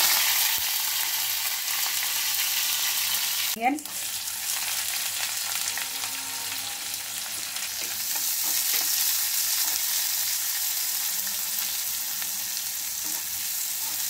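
Tempering spices fry in hot oil in a pan for raw banana curry, a steady bright sizzle holding throughout with one brief clink of a utensil partway, no voices.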